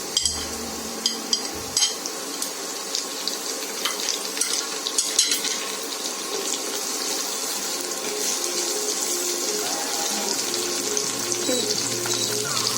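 Mutton sizzling steadily in a pan for mutton sukka as green chillies and curry leaves go in, a continuous close frying hiss with scattered pops and stirring clatter, a voice speaking faintly underneath.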